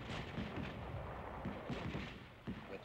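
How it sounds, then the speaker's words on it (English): Gunfire and artillery thunder through a World War II infantry battle near San Pietro, Italy, as a steady, faint wash of overlapping reports with heavier booms punching out at irregular intervals. "we move forward protected by constant fire"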